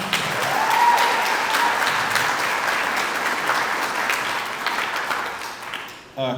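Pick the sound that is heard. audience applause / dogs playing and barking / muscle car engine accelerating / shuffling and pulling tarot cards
audience applause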